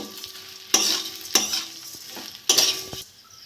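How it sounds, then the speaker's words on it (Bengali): Vermicelli frying in ghee, stirred in a pan for homemade milk semai, with three sharp scraping stirs over a steady close sizzle and no talking. "আমি সিমুইগুলো দিয়ে দেবো। ভালো করে ভেজে নেব।"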